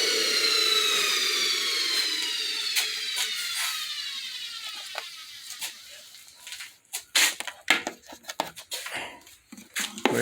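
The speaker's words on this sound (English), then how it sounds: "That's a nice sounding motor." An electric motor in an EV conversion setup spins down with a falling whine that fades over several seconds, followed by scattered clicks and knocks near the end.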